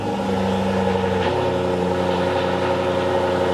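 A sports car's engine idles steadily right after a keyless push-button start in a showroom, a close, loud, even hum with a low pulsing rumble and no talk.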